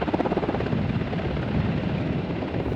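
A helicopter that carried teachers in Montana makes a loud, steady rotor chop with a pulsing thud and a dense engine roar, close and continuous throughout.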